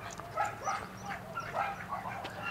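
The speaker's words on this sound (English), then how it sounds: "Oh, look at that doggy." A dog gives a rapid run of high, yipping whines and soft barks close by, repeated excitedly in short bursts.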